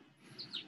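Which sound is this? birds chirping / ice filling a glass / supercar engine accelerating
birds chirping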